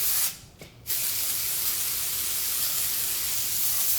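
Two short hissing bursts of U-Dry Fresh spray aimed at artificial hair, a brief pause between them, then a sustained close spray.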